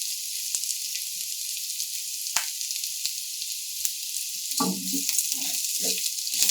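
Chana dal and cumin seeds roast in a pan over low heat with a steady, close sizzling hiss. A few soft stirring scrapes come in near the end, and no voices are heard.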